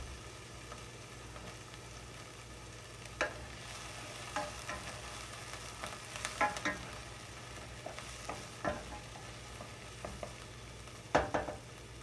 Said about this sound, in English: I'm going to keep it more on the lower side until we get the onions a little bit caramelized.